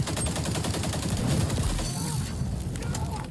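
Dense, continuous gunfire from a capture-the-flag match in the shooter XDefiant, a steady loud barrage of overlapping shots with no clear gaps throughout.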